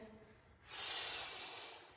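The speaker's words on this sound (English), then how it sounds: "So exhale on the hardest part of the movement" A forceful breath pushed out while rising from a kettlebell windmill, a faint quiet lead-in followed by a long breathy exhale up close.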